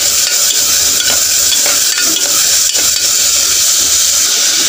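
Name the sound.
onions frying in a pan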